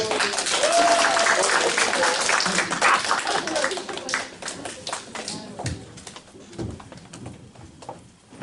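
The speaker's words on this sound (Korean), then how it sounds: "박수 부탁드릴게요" Audience clapping at a recommendation-award ceremony, scattered claps spread across the room while a host talks over them, fading toward the end.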